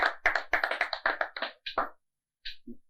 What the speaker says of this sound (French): Applaudissez pour Gilou Dos qui va se lever déjà pour nous.